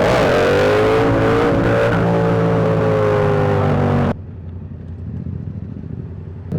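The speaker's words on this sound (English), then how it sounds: "This is a wheelie." A motorcycle engine revs hard through the gears during a wheelie on a London night ride, loud and close, then cuts to a low, quieter rumble for the last seconds.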